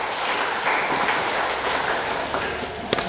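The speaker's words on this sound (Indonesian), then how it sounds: "Kita beri aplaus untuk bagian ini" Applause from an audience at a regent's budget speech in a council chamber, a steady spread of many hands clapping at moderate volume throughout.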